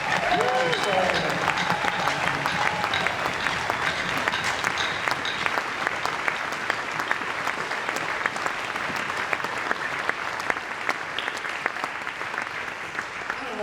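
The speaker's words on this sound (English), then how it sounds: "I want you to give again another big round of applause for that" Cabaret audience applauding continuously at a political cabaret performance, a dense sustained wash of clapping that stays steady throughout, with faint talk blended in underneath.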